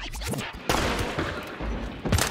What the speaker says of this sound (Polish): Strzały na mnie.